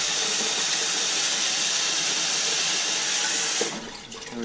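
Cold water runs steadily from a kitchen tap, a loud continuous hiss and splash that stops abruptly near the end.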